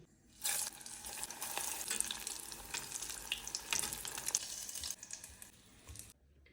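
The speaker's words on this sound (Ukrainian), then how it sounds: "Відправляємо смажити в розігрітій олії." Battered, chip-coated food hisses and bubbles in hot oil, a loud steady sizzle that starts abruptly and continues for several seconds before cutting off.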